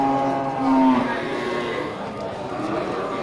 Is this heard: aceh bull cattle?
yes